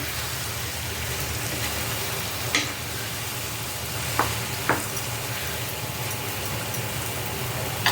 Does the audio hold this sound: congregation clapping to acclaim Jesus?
no